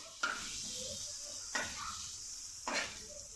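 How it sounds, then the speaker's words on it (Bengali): Vegetables dropped into hot oil, with three sharp hits of a spoon or pan followed by a steady sizzle and soft stirring close by. "তেলটা গরম হলে সবজিটা ওর মধ্যে দিয়ে দেব"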